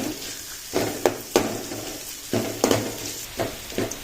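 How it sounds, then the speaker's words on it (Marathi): Onion frying until golden in a pan for Goan mushroom curry, a steady close sizzle broken by several louder bursts of stirring and scraping, with no talk over it. "कानो पळय भाजत येयलो."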